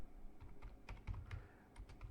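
Quiet, close keyboard typing on a computer, a quick irregular run of soft key clicks with no one speaking.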